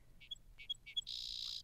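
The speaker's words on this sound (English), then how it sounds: "Little Bird started to sing, praising God for all that she was experiencing" A small bird perched on a branch sings: three short, bright chirps at an even pace, then a longer, sustained trill, all clear and close with no talk.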